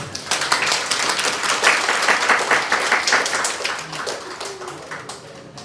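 Applause from an audience at the close of a five-day maritime workshop on IMDG and IMSBC codes in Bangkok, a steady sustained clapping that fills the room throughout, with no talk over it.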